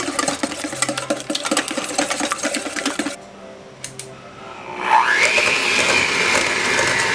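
An electric mixer whirs steadily as it beats egg whites and sugar for banana pudding meringue, stops briefly, then restarts at a higher, smoother whine; the motor noise is loud and continuous with no voices.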